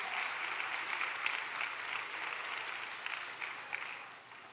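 Church congregation during a Spanish-language sermon applauds strongly, an even, moderately distant wash of clapping that tapers slightly at the end.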